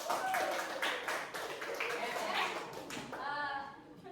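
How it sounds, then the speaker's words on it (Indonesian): Children at a scout gathering clap their hands together in a lively, uneven burst, close and fairly loud. Voices shout and talk over the clapping. "Tepuk tangan dulu."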